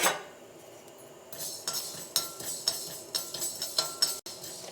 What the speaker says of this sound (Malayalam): ചീനച്ചട്ടിയിലേക്ക് ഏറ്റവും ആദ്യം ഉലുവ ഇട്ടിട്ട് വറുത്തെടുക്കുക